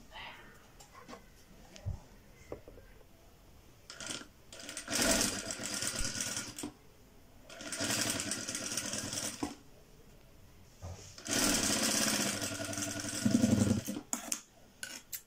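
Sewing machine stitching a round fabric neckline in several bursts of steady whirring, separated by pauses, with someone talking between and over the runs.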